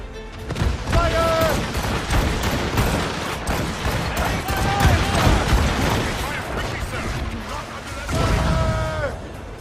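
Repeated heavy ship cannon blasts boom through a busy battle in the video game Assassin's Creed Rogue, with shouted voices and music layered over the near-constant gunfire.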